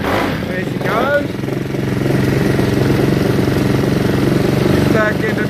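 An Aprilia SXV motorcycle engine idles steadily and fairly loud after a restart, a continuous low throbbing rumble with a brief rev-like rise near the start, while someone talks over it.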